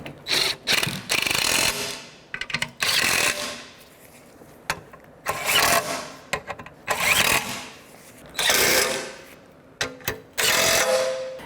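A ratchet with a 13mm socket turns the exhaust manifold bolts on a 2006-2012 Toyota RAV4, giving repeated bursts of rapid clicking with short pauses between strokes, loud and close.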